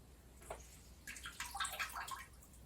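Water splashing and dripping from a cloth wrung out by hand during off-grid laundry, a brief cluster of close wet drips and trickles after a quiet start.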